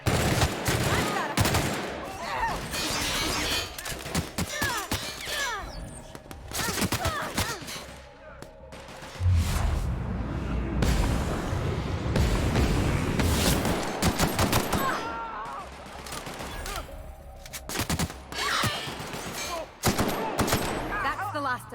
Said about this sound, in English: What the hell was shooting me?